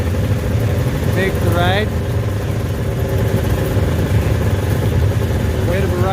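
Vintage Colt 250 snowmobiles idle and run at a winter gathering, a loud, continuous rough engine drone up close, with people talking over it.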